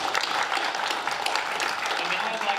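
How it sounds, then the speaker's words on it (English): An audience claps together at a lecture event, a dense, steady patter of many hands close by that continues for several seconds. "Let's give them another round of applause."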